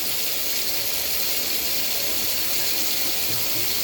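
Water pours steadily from an opened tap, a loud continuous rushing hiss with no pauses.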